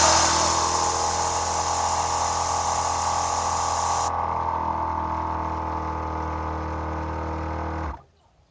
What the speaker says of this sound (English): Let's test the compressor.